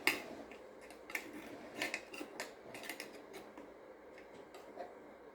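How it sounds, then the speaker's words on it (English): A small butter knife clicks and scrapes softly against the edges of a baked sausage cheese bread, with light irregular taps and scrapes close by in a quiet room. "I'm just going to use a little butter knife and just kind of lift the edges so that that butter gets all down in there"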